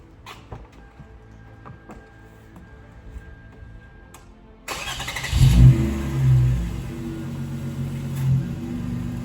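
A 2002–2006 Toyota Camry engine cranks and catches after a few faint ticks, then settles into a steady, close idle with a brief rise in revs, no talk.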